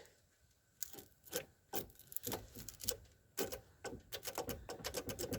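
A series of irregular mechanical clicks and rattling taps in a Ford Flareside pickup's engine bay, close and fairly quiet, with no fuel pump hum running beneath them.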